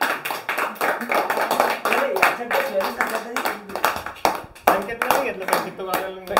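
A group of children and adults claps at a birthday party, with irregular bursts of clapping close by. Excited voices talk and call out over it.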